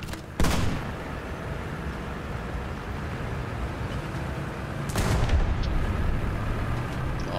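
An enemy tank's main gun fires in a War Thunder ground simulator battle: a heavy, loud boom near the start and another around the midpoint, both over a constant low engine rumble.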